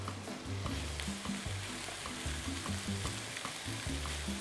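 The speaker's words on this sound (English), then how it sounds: "Comme vous pouvez voir, les oignons sont presque cuits." Onions sautéing in a pan give a soft, steady sizzle and crackle, with quiet clatters and stirring knocks repeating throughout at low volume.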